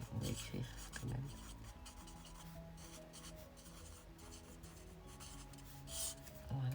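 A pencil writes on paper in short, faint scratching strokes with brief rubbing pauses, heard close but quietly against soft background noise.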